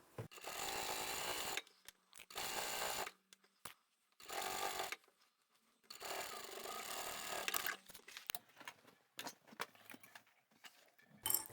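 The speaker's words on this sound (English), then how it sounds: "And then I'll sew to the end." A sewing machine stitches a large reversible tote bag sewn from scrap fabric, running in several sustained bursts of a second or two each with short pauses between, close and fairly loud, followed by scattered small clicks and handling noises.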